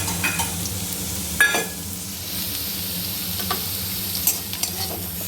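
Onions frying in a pan as the base for a pumpkin dish, a steady close sizzle with occasional stirring scrapes and clicks, no voices.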